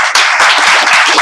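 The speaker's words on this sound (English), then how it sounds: "let us hear a round of applause for them" Audience applause at a mock income tax tribunal event, a short burst of dense clapping that starts abruptly and carries on loud and close for about a second.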